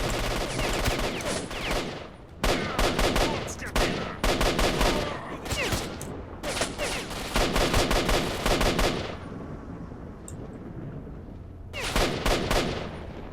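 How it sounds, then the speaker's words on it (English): IL-86 rifle in S.T.A.L.K.E.R.: Shadow of Chernobyl firing in long, loud automatic bursts, rapid cracking shots separated by short pauses, close and dominant with no talk. "This gun is called the IL-86."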